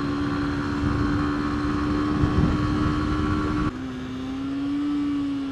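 A Lexmoto motorcycle ridden flat out, its engine droning at a steady high pitch that drops and shifts partway through, as if changing gear, continuous and close.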